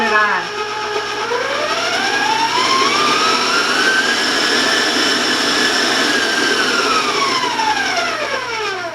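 An electric hand mixer running at high speed, blending coconut cupcake batter in a home kitchen, gives a loud, steady motor whine that rises in pitch as it speeds up and settles into a continuous drone lasting about nine seconds.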